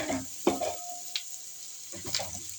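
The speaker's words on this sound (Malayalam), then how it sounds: "കരിവേപ്പില അതിൽ കിടന്നൊന്ന് വഴലട്ടെ." Curry leaves sauté in oil in a pan for a chicken curry, with a soft sizzle underneath and a couple of sharp spoon-and-pan stirring clatters, close and fairly quiet.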